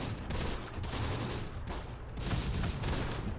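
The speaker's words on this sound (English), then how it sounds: "Good old Fallschirmjäger MG" Fallschirmjäger machine gun in the WWII strategy game Close Combat fires dense, continuous bursts of gunfire with battlefield clatter, loud and close throughout with no break.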